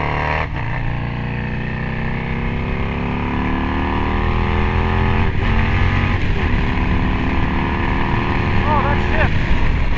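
A Harley-Davidson Screamin' Eagle factory Road Glide racing motorcycle ridden hard on a track, its loud, close engine climbing repeatedly through the revs with shifts between pulls and constant wind rush.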